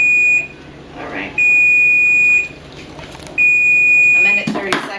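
In a home kitchen, a kitchen timer goes off with three sustained electronic beeps about a second apart, loud and piercing, while voices talk between them.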